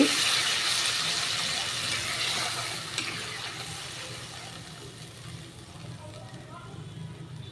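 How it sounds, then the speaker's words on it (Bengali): Rinse water from a spice bowl poured into a pan of frying spices over a low gas flame while cooking a vegetarian paneer dish, a steady loud hiss and sizzle that slowly fades, with a voice talking over it. "মশলার বাটি ধোয়া জল একটু দিলাম"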